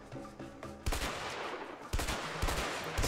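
Gunfire in the video game A Way Out, with loud bursts of rapid automatic shots in two or three sustained volleys and several single sharp reports, close and dominant over faint game music.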